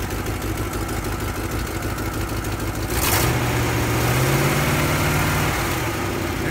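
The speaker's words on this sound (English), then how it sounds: "Give it a little rev, Larry." Engine of a one-owner 1968 Chevrolet Chevelle SS idles with a steady rumble, then about halfway through is revved hard, the pitch rising, holding and falling back toward idle, loud and close with no talk.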